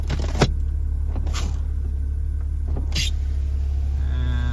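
BMW E46 power window regulator motor lowering a window, a steady motor whine under a constant low engine rumble, with short clunks at the start and end and a faint strained tone toward the end.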